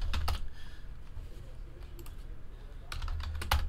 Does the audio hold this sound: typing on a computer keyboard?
yes